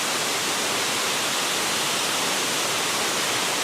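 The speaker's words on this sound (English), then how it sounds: "When you get this close to the a waterfall, about 60 foot right there." A roadside waterfall about 60 feet high roars from up close as a loud, steady, unbroken rush of falling water with no talking.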